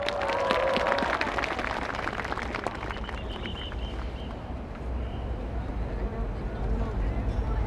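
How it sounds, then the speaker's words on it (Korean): Audience applause breaks out in a dense wash of clapping that continues under crowd murmur and a voice speaking, steady and fairly near throughout. "박수 부탁드리겠습니다"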